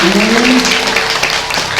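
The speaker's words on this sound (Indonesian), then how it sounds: "Tepuk tangan yang meriah atas mata kita di rumah" An audience at a Balinese bondres comedy performance in a village hall breaks into a burst of lively clapping that stays dense and loud throughout, with a voice faintly heard beneath it.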